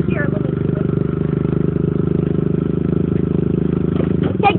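A dirt bike engine runs close by with a steady, loud, pulsing drone, then revs briefly near the end, with no talking.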